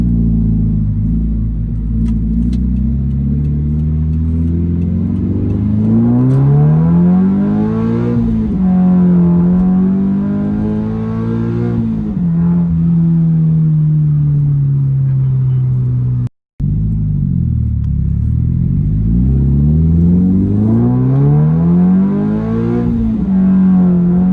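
A Subaru BRZ fitted with a Tomei catback exhaust revs and accelerates, its loud exhaust note climbing and falling in pitch several times, with a short break partway through.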